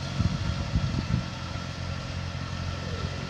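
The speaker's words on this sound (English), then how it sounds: "72-inch KIOTI snow thrower in action here" A KIOTI NX 5010 tractor running a 72-inch KIOTI snow thrower, its steady engine drone holding throughout with some louder low rumbling and clatter in the first second.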